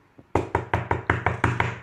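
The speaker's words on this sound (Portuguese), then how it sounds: "Pouco depois, alguém bateu à porta, gritando" Knocking on a door as a story sound effect: eight firm, evenly spaced knocks, close and loud, after a faint tap, with no talk.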